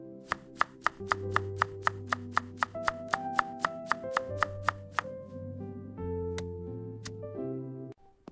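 A knife chops vegetables in a quick, even series of sharp taps, close and crisp, over a sustained musical backing.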